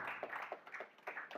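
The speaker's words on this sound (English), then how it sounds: "Let's welcome him with a round of applause." An audience gives a round of applause at a youth democracy forum, a sparse, quiet patter of hand claps with distinct individual slaps standing out, heard alone with no talking.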